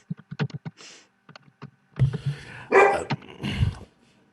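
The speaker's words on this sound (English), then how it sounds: "I apologize for my dogs in the background, they're losing their minds." Several dogs barking in the background, with a string of short sharp barks followed by louder, overlapping yelps and bursts of frantic barking.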